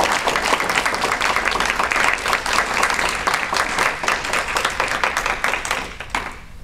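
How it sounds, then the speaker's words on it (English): An audience at a university economics debate gives the debaters a hearty round of applause, close and energetic clapping that holds steady before thinning out and fading at the end. "I think we should all give them a big round of applause"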